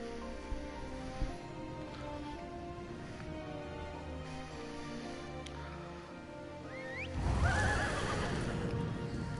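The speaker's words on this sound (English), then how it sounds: "Not every day you see a horse pop out of the ground." A horse in The Elder Scrolls Online gives a loud, close, shaking whinny after several seconds of game ambience with light hoof clops, no voices.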